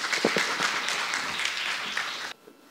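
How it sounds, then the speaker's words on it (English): An audience at a judicial academic conference claps in brief, moderate applause that stops abruptly. "A round of applause."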